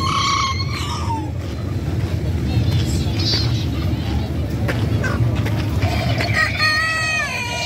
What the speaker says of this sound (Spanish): Pájaros, gallinas, gallos de miniatura.